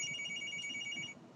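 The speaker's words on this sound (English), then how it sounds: "my phone is ringing again" A mobile phone ringtone chirps in a rapid repeating electronic pattern, fairly faint and steady, then stops abruptly near the end.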